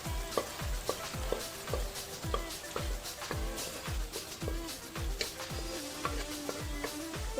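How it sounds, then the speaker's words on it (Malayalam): Pork fries in a pan with a steady loud sizzle while it is stirred, and repeated scraping strokes set up a regular rhythm close up, with no voices over it. "ഇനി ഇത് ഇളക്കി കൊടുക്കാം നല്ലതായിട്ട്."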